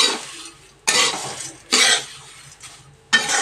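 Flattened rice snack (atukulu) being fried and stirred in a pan, with four loud bursts of scraping and sizzling as the spoon turns the mix, separated by quieter gaps of gentle frying.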